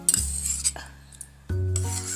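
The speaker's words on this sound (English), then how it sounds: "Mix it well." A spoon stirs spicy amla juice with sabja seeds in a glass, producing scraping rubs and clinks. A low steady hum drops out briefly midway and returns, with no speech.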